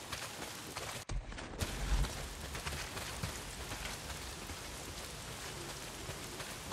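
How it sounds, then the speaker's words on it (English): Heavy rain pours steadily in the Days Gone game world, a dense unbroken hiss of rainfall with a brief dip near the start and a few low thumps underneath. "Well, not if it's pissing down rain."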